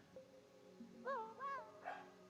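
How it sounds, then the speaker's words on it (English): A dog gives a few short, faint yips and whimpering barks close together, quiet against a low indoor hum. "Mana Chug is barking right now"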